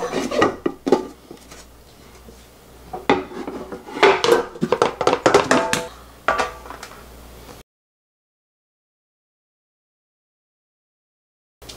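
A container of set agar jelly made from seaweed is shaken and turned over in a kitchen, giving a cluster of hard clattering knocks and rattles followed by silence.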